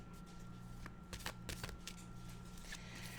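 A deck of tarot cards being shuffled by hand, with soft riffling bursts and faint brushing over a steady low hum, fairly quiet and close.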